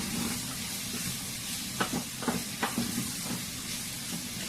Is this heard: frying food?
yes